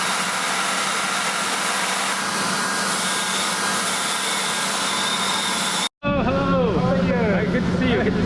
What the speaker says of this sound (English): gives them just one last touch on the buffing machine